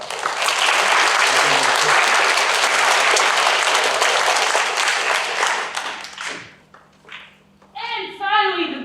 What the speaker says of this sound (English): Give everyone who participated in that a round of applause.